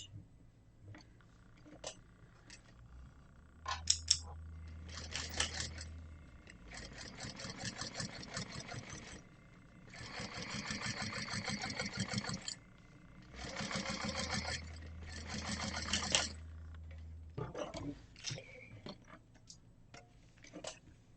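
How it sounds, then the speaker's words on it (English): A sewing machine top stitches a dice pouch in several bursts of rapid, even stitching, each a few seconds long, with short pauses and small handling clicks between them, close and without talk. "Flip down and top stitch."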